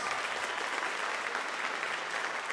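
An audience at a high school spring band concert applauds seniors as they stand, producing a steady, dense wash of clapping that holds at an even level throughout, with no talk over it.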